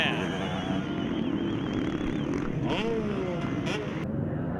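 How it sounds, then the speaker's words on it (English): A two-stroke off-road motorcycle revving hard at a GNCC Ironman race win, a loud buzzing engine note rising and falling under excited commentary and crowd noise. "Revving the 2-stroke out, Kailub Russell wins the Ironman."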